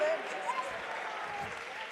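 A church congregation claps together during a Malayalam worship service, a dense, steady wash of hand claps filling the room alongside background voices.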